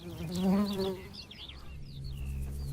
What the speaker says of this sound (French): La petite Lasioglossum marginatum rentre au nid chargée de pollen.